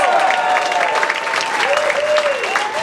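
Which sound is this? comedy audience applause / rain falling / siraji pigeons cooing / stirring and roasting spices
comedy audience applause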